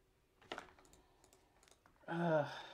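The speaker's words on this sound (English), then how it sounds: "A lot of clicking, a lot of tediousness." Quiet computer clicking during an online card game session, a few soft isolated clicks followed by a louder burst of rapid tapping near the end, close to the microphone.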